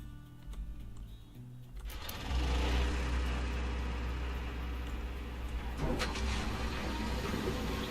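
A gold wash plant's engine catches and roars up to a loud, steady running drone with rattling machinery, continuing without speech.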